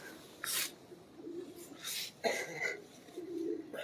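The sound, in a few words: pigeons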